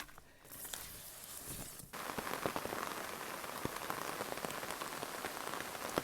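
Steady rain patters onto a misty, overgrown Appalachian Trail and an umbrella, a dense hiss of close drops with occasional sharper taps, starting softer and growing heavier after a brief break.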